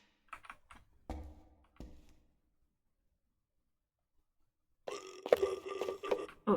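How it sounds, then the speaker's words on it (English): A ghost in the game Phasmophobia lets out short guttural burp-like sounds, a few brief bursts followed by a longer, louder rumbling belch after a pause, with some clicking of keys mixed in. "it's like a burping ghost"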